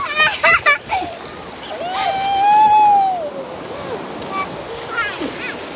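Sea waves wash steadily onto a beach where people swim, a soft continuous surf under voices and chatter.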